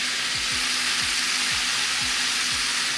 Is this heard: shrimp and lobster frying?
yes